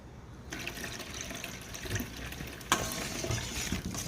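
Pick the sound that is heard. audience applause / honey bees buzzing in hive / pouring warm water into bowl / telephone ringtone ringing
pouring warm water into bowl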